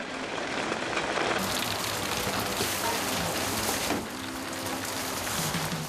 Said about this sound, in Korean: 긴 장마의 끝자락. 하루 종일 비가 오락가락하는데요.